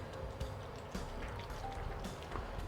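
Water pours and dribbles faintly into a container while making gazpacho, with soft drips and small splashes over a quiet background.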